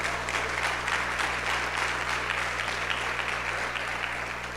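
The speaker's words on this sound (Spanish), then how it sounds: "Denle una ofrenda de palmas a Jesús" Church congregation giving a round of applause during a sermon, dense and continuous clapping from a large crowd that holds steady throughout, with a low hum underneath.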